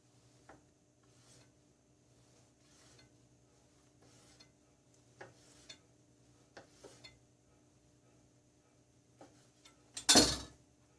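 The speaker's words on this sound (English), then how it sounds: "So I'm going to slice it like I would slice a regular lobster." A knife slicing through homemade fake lobster meat made with lobster roe, soft intermittent cuts and light taps against a board, ending in a louder clatter.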